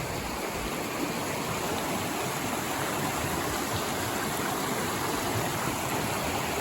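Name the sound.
creek water flowing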